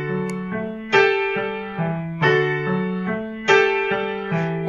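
A short piano passage from Gurlitt's beginner piece Morning Greeting is played with an overly loud right hand. Accented chords and notes fall in a steady lilting rhythm, close and clear, with no talking.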